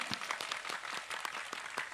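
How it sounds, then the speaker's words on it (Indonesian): Wedding guests applaud a husband-and-wife pair of Sufi dancers with quiet, scattered clapping from a small group, individual claps distinct and uneven rather than a full ovation. "Tepuk tangan dulu dong."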